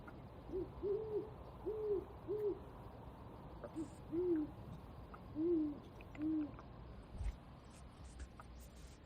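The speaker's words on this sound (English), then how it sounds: "if you've never heard a great horned owl, that's what two of them sound like" Two great horned owls hoot back and forth at night, a series of deep, soft, rounded hoots in short groups, moderately distant against a quiet nighttime background.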